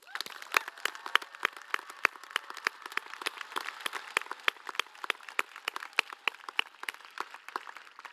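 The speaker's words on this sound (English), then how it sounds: "Let's give them a round of applause." Scattered applause at a high school graduation ceremony, with many distinct, crisp individual claps in a loose, uneven rhythm throughout, fairly close and moderately loud.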